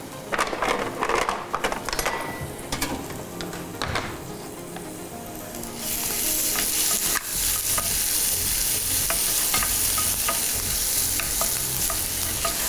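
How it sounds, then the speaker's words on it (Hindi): Spices sizzle in a hot pan before chicken goes in, with a spoon scraping and stirring in uneven strokes, and the frying hiss grows louder and steadier partway through. "थोड़ा सा इसको सौते करेंगे और फिर इसमें चिकन ऐड कर लेंगे"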